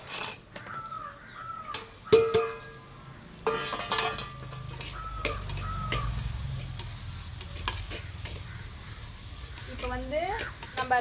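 Onions sauté in a clay pot for fish curry, with an ongoing sizzle and repeated scraping and clinking from a stirring utensil. A voice speaks intermittently over the cooking.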